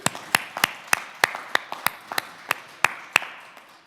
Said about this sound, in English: he deserves a round of applause for that, for sure